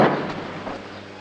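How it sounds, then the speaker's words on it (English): A sonic boom from Lightning fighter jets hits as one sharp, loud bang at the start, then rolls away into a fading broad rumble. "Concorde will build up a pressure wave which produces the sonic bang."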